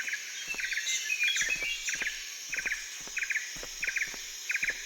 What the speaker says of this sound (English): What's that sound? It's a bird, mate.